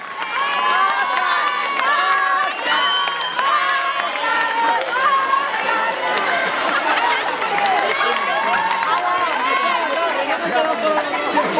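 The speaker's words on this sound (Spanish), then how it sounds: "¡Un aplauso!" Crowd at a student charity race event in Fuenlabrada cheering and clapping, with children's shouts and excited voices dominating throughout, loud and close with sustained chatter.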